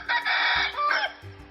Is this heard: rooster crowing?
yes